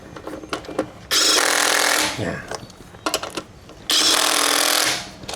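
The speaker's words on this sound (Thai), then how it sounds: "เวลาผมขันเข้านะครับผมจะใช้แค่เบอร์เบานะคือเบอร์แรกเบาสุดเลย" Masaru SCDW-225 cordless impact wrench hammering a fastener tight on its lowest setting, two loud rattling bursts of about a second each, with quieter clicks and handling noise between them.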